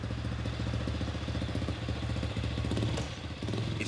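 A postwar German NSU Max motorcycle with a pressed steel frame runs at a steady mid-pitched engine beat, with a fast, even rhythmic chug and light mechanical clatter, fairly quiet and with no talk.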